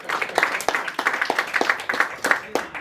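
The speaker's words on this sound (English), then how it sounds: "Clap it up for that." An audience at a comedy show claps in a close, loud burst of applause, hands striking in a quick uneven rhythm with no talking over it.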